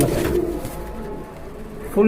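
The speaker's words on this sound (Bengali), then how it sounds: "দেখেন কবুতর" Pigeons at a farm coo in low, soft bursts at the start and end of a short stretch, close by and moderately loud against quiet background noise.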